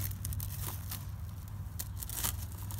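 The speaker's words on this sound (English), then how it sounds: "I have plastic wrap. You see this plastic wrap?" Plastic wrap is handled and torn close by in a quiet setting, producing brief crinkles and a few sharp tearing rips.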